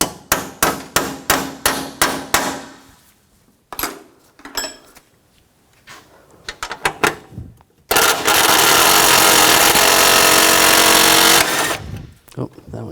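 Ratcheting 12mm socket wrench removing bracket bolts on a 2004-2009 Toyota Prius during AC condenser replacement, a run of quick rhythmic clicks, a few metallic knocks, then a long steady whirring burst before more clatter, close up.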